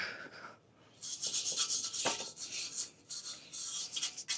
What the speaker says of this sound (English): a hand wire brush is gonna be it